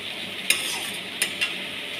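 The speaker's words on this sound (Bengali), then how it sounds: "এই মশলাটা এবার এতে সব ঢেলে দিলাম।" A spice mixture sizzles softly and steadily in a hot pan, with a few sharp clinks of a utensil against the metal.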